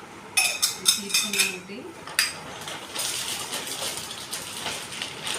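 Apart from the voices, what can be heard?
metal storage box being handled, clinking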